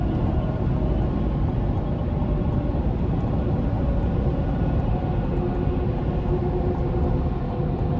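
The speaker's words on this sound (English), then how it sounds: "road noise isn't bad, and the wind noise wasn't overly intrusive. I can hear it, but it's not loud" Steady road and wind noise inside a 2024 GMC Canyon AT4X turbo pickup while driving, a constant low rumble and broad hiss at moderate level throughout, with no talk.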